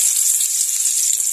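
Garlic sautéing in a frying pan for ginisang petsay with tofu: a steady, loud, bright sizzle heard alone and close.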